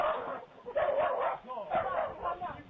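A small, excited dog barks and yips in quick bursts, close and lively, with a person's voice mixed in.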